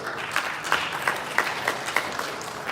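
An audience at a diaspora convention applauds a speaker, a moderate crowd clapping with a few sharper individual claps standing out in the steady patter.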